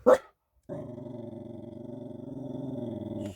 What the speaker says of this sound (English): Who is she barking at?